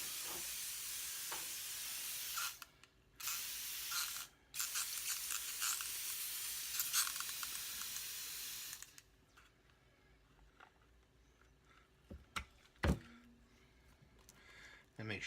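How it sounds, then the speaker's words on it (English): Spray paint hisses from an aerosol can onto a painted model of the Invasion of the Saucer Men, several bursts with brief gaps, then quieter handling noises and clicks. "Give it a spray."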